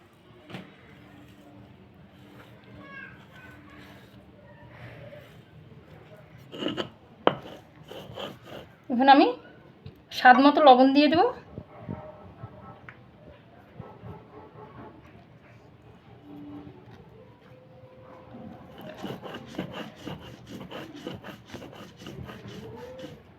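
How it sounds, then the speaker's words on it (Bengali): Jackfruit seeds and dried fish being ground into paste by hand, scraping and rubbing strokes with knocks, loudest in short bursts midway, with quieter rustling and faint handling noises around them. "আমি আবার বেটে নেব"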